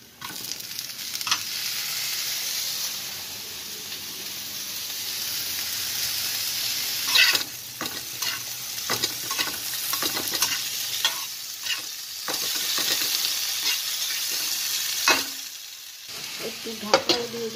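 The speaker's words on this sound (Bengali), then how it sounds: "তারপর নাড়াচাড়া করতে করতে ভাজা হয়ে গেল" Tomato stirred and frying in a pan for a fish curry, a steady sizzle with irregular scraping and clinking of the spatula against the pan throughout, close and fairly loud, no talking.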